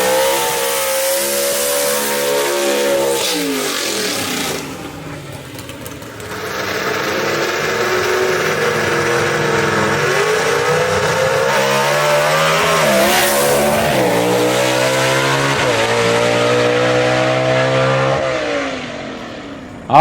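A B Gas class gasser drag car makes a solo bye run at Mooresville Dragway in the Southeast Gassers series. Its loud engine revs hard through rising gear pulls and briefly drops off before roaring again, with the sound sustained for twenty seconds and no talk.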